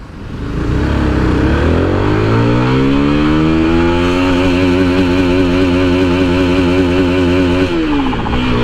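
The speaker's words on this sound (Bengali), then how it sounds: "ফার্স্ট গিয়ারে এই বাইকটা ম্যাক্সিমাম স্পিড কতটুকু উঠে তো চলেন একদম থামায় দেই যেন টর্কটা পাওয়ারটা ভালো করে ইনপুট দেওয়া যায় একদম জিরো থেকে যাই" A Lifan KPT 150 4V fuel-injected motorcycle pulls away from a standstill in first gear, its engine winding up loud and close to high, sustained revs before easing off near the end.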